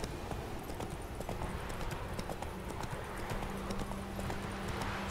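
Horse galloping in The Witcher 3 video game, heard as rapid continuous hoofbeat clip-clop close up over a dense steady background, with no pauses across the few seconds.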